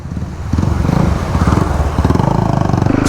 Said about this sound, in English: Oh, DOZ is chugging.